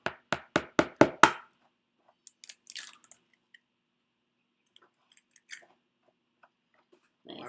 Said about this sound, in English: I'm actually chopping up the broccoli.